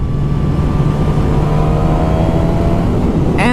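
A 2019 Suzuki GSX-S 1000 motorcycle with its stock exhaust runs close by, a loud steady engine note that rises in pitch near the end before a sharp final burst.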